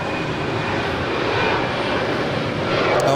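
A Spirit Airbus A321 touches down at Los Angeles International Airport with a loud, steady roar of engines and broadband rushing noise that holds constant throughout.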